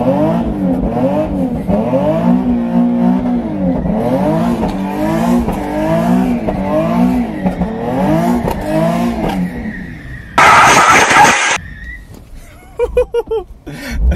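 Nissan 370Z automatic sports car revving and accelerating hard, a loud, rising and falling engine note in repeated surges, ending in a sharp burst of tire squeal, with excited voices talking over it.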